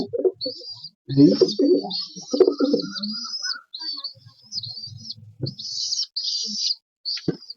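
Giribaz and Madras pigeons in a loft, with soft low coos and murmurs in bursts alongside steady high chirping from other birds, close and moderately loud.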